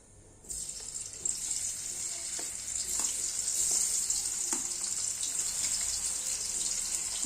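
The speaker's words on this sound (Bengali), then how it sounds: "পনিরগুলো কেটে নিয়েছি এবার ভেজে নেব তেলটা গরম হয়ে গেছে দিয়ে দিচ্ছি তেলে" Paneer pieces dropped into hot oil and frying, a sudden loud hiss that settles into continuous bright sizzling with small pops and crackles, close and steady.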